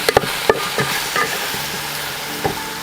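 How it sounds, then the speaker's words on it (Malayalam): Chicken curry seasoned with curry leaves cooks in a Kerala-style pan, a low continuous sizzle broken by a few sharp clicks and scrapes of a spoon or lid, close by and without talk. "ഇനി നമുക്ക് ലോ ഫ്ലെയിമിലിട്ട് ഒരു 10 മിനിറ്റെങ്കിലും നമുക്ക് മൂടി വെച്ച് വേവിക്കണം."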